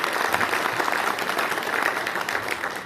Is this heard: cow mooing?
no